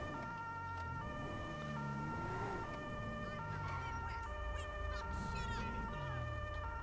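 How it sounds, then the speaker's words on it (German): A German police car's two-tone Martinshorn siren blares in the video game GTA 5, alternating steadily and loud throughout, with engine and traffic noise underneath. "Wir fahren mal mit Sirene"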